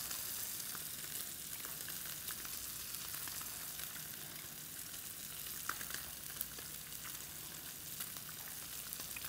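A spicy tilapia fillet fries in a pan, giving a steady, close hiss and crackle that runs on unbroken with small pops here and there.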